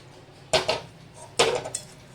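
Roasted coconut mixture is scraped from a pan onto a plate, giving two distinct bursts of scraping and clattering about a second apart, each trailing into lighter metallic scuffs.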